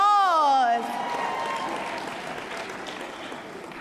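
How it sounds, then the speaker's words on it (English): An audience breaks into sustained applause as a voice trails off, the clapping dense and steady before gradually thinning. "Give yourselves a round of applause."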